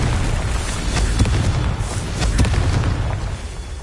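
Confringo, the explosive fire spell in Hogwarts Legacy, blasts with a heavy booming roar that stays loud and dense throughout, bursts of crackling impact swelling within a continuous rumble.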